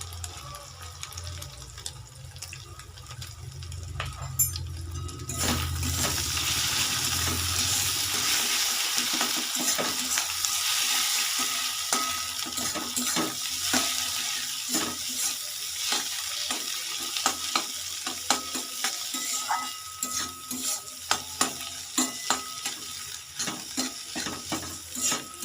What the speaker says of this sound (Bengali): ডিম দিয়ে দিয়েছি, এবার একটু নেড়ে দেব।